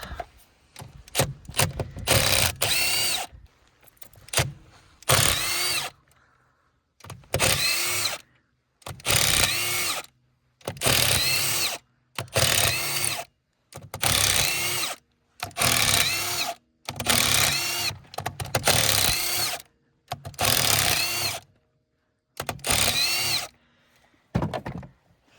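A power tool driving bolts out during cylinder head removal on a Polaris Edge 600 snowmobile, about a dozen loud, close bursts of whirring, each a second or two long, separated by short pauses, with no talking.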